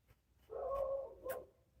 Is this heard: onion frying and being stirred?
no